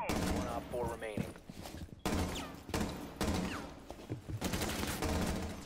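Rapid gunfire bursts in a tactical video game shooter, loud and dense, with sharp repeated shots and a few thuds, while several players talk over the action.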